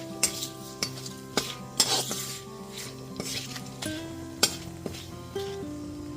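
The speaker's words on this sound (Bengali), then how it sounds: "এবার ফোড়নটা হালকা করে ভেজে নিচ্ছি।" Cumin seeds, cloves, cardamom and cinnamon fry in oil for moong dal with fish head, a quiet crackle under sharp, repeated metallic clinks of a spoon against the pan.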